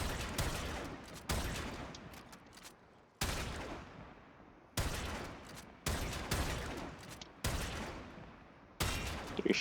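Video game gunfire while shooting enemies: sharp, loud shots fire in repeated bursts, each cutting off into a brief decaying tail, with short gaps between volleys.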